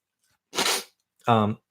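Two short vocal bursts, a breathy sharp sneeze-like blast followed by a brief voiced sound, close and loud with silence around them.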